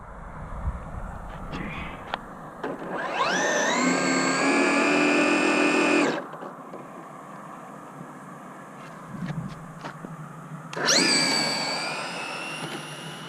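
Traxxas Drag Slash RC truck spinning its tires, two loud rising electric motor whines, the first long and steady and the second shorter, with quiet gaps and light handling noises in between.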